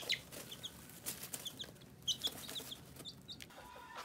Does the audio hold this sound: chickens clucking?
yes